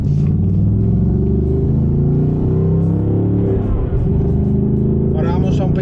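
A 2025 Ford Mustang GT engine rumbles steadily while driving, a deep low drone with a slight swell in revs midway, close and loud throughout.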